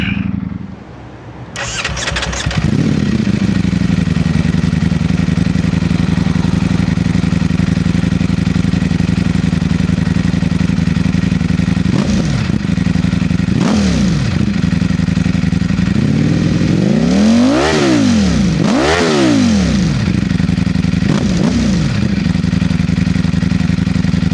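A Ducati Streetfighter V4S motorcycle starts up and settles into a loud, steady idle, then is blipped through several sharp revs that rise and fall, close and alone.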